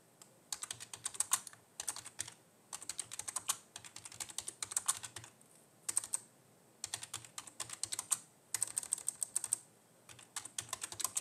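Someone types on a computer keyboard with one finger, giving close, crisp key clicks in quick bursts separated by short pauses.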